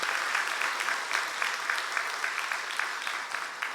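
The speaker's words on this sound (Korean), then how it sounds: "우리 박수 한번 해주세요" A church congregation claps together during a Thanksgiving Sunday service, a dense, steady wash of hand claps filling the whole stretch at even loudness with no voices over it.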